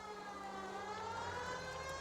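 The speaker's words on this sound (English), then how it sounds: "Siren's on." A police car siren wails steadily in the L.A. Noire video game, a continuous sweeping tone held throughout under a low engine hum, moderately faint and without talk.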